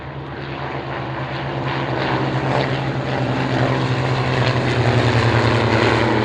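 Propeller aircraft making a final pass at the Duxford Flying Legends air show, a steady droning engine roar that grows slightly louder as it passes.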